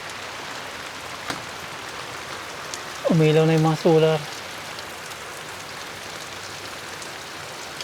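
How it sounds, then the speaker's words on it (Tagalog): Heavy rain pours steadily with a dense hiss throughout on a small farm during flooding, while a person briefly speaks over it. "Lakas ng ulan, no?"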